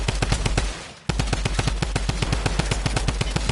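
Rapid video-game gunfire in steady automatic bursts, loud and close, with a brief lull about a second in before the shooting resumes without a break.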